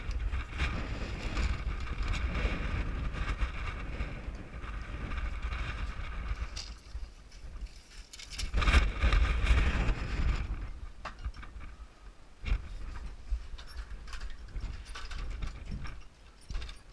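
Wind buffets the microphone at an outdoor house framing site during roof layout, making a steady low, rumbling roar that swells and dips throughout, with a stronger gust near the middle.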